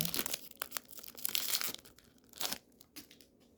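Crinkly foil wrapper of a Malibu Comics Ultraverse trading card pack by Skybox being torn open by hand, close-up bursts of crackling and ripping with short pauses between pulls.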